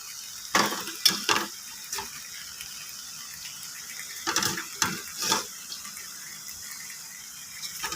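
A spoon stirs chicken curry masala in a frying pan, giving two clusters of close scraping, sizzling strokes over a faint steady hiss.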